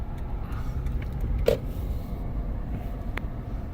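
Car driving through the Outback near Uluru, a steady low rumble of road and engine noise heard from inside, with one brief click partway through.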